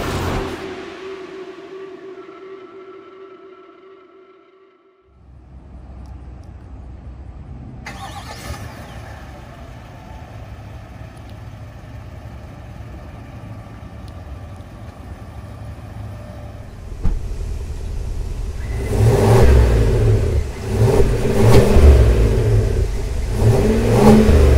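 A 2021 GMC Yukon Denali 4WD with a 6.2L V8 cranks and fires up after a quiet pause, settles into a steady idle, then is revved hard in several loud, close bursts.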